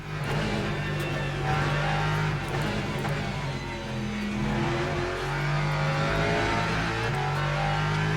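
A Lexus race car in the sim racing game Le Mans Ultimate, its engine droning and shifting pitch as it climbs and eases off, a steady mechanical tone with no voices over it.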